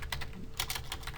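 Steady typing on a computer keyboard during database work, with quick irregular key clicks close to the microphone, soft but distinct, with no voices.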